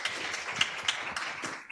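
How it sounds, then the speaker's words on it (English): Brief burst of audience applause for the panelists at an evening panel discussion, dense, fairly close hand clapping with scattered sharper claps, with no talk over it. "I would ask again for an applause for our wonderful panelists"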